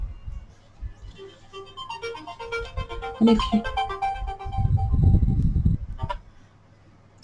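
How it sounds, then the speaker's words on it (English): A mobile phone rings with a short melodic ringtone that plays for a few seconds during a card-stamping session, then a voice speaks over heavier rustling and handling noise. "sorry about that, that was my phone"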